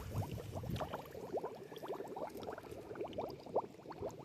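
Floodwater gurgles and bubbles close by in a farm field, a continuous low churn, small splashy pops rising through the flow.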